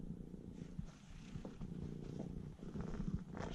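A lazy house cat purrs steadily and close by indoors, a low continuous rumble with soft rhythmic pulses running through the whole stretch, no talking over it.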